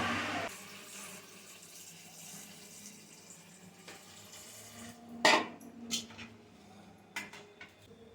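Water pours and trickles steadily as it is drained off soaked soybeans, with a few sharp knocks and clatters of a bowl or utensil near the end.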